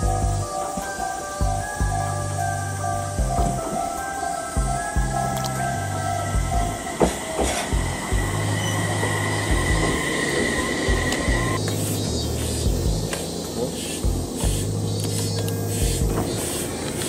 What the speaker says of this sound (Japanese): 列車が来るようです。